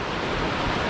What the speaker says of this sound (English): I saw this water on the river wharf itself going over these rocks.